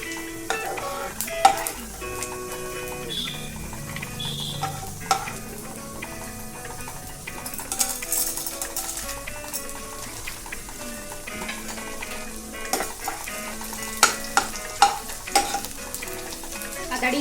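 Edible gum frying in hot oil over a low flame while being stirred, a soft continuous sizzle with scattered light crackles and occasional scrapes and clinks of the spoon against the pan.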